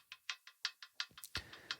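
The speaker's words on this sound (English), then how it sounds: "I've got another hi-hat loop from Splice." A quiet, muted hi-hat loop sample from Splice ticks along in a quick, steady pattern of short, crisp hits, with a slightly heavier accent near the end of the short phrase.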